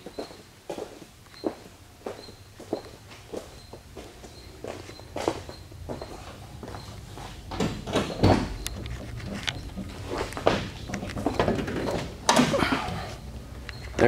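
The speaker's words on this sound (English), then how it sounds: "Doors open and shut very nicely." Doors of a 1969 Chevrolet Camaro SS being opened and shut, a string of sharp latch clicks and thuds, then heavier closing slams and handling noise close by.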